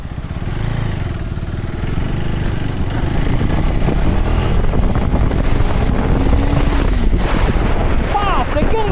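A 2025 KTM Adventure 390 S motorcycle riding along a road, heavy wind rush over the microphone with a low engine drone that builds and shifts in pitch as it accelerates.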